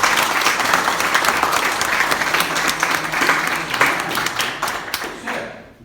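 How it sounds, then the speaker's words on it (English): An audience in Poznań applauds Charlotte with steady, energetic clapping that carries for several seconds before cutting off abruptly at the end. "That's why she deserves a huge applause."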